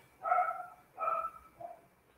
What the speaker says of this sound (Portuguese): Vocês já estão ouvindo aí minhas cachorrinhas dando palpite.